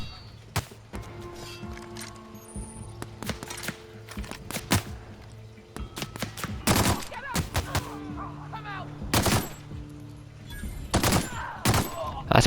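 Pistol and shotgun fire in The Outer Worlds, sharp irregular shots cracking out one after another, some close together, with quieter game sounds and faint tones beneath.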